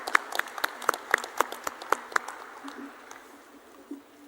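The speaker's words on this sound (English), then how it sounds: "a round of applause would be appropriate at this time" A few people clap in a sparse, rhythmic burst at a drone summit in a convention hall, gradually thinning out and fading, with faint background murmur.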